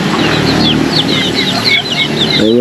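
Chickens cluck and chatter continuously nearby, with many short overlapping calls and a lower clucking burst at the end.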